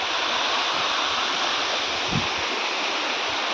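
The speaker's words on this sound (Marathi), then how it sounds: "इथे पाण्याचे धबधबे बघा" Waterfalls pour into a deep valley beside the Siddheshwar temple near Parner, a dense, constant rushing roar that fills the whole clip without pause.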